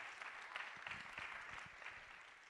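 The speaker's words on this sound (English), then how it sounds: "give the Lord a hand clap of praise" Church congregation clapping hands in praise during a worship service, a dense, steady burst of applause filling the room, loud and continuous with a faint voice in the background.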